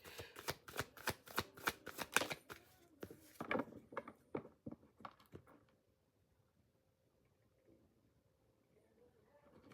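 Tarot cards shuffled and riffled by hand in a quick run of close, crisp slaps and flicks over about five seconds, then near silence.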